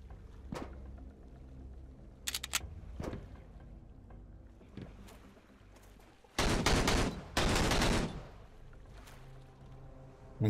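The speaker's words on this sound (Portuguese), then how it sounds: "Vamos ver de onde veio esse tiro." Gunfire in the survival video game Sunkenland: several sharp reports, a quick cluster near two seconds, isolated shots, then loud sustained bursts around six to eight seconds over a low ambient bed.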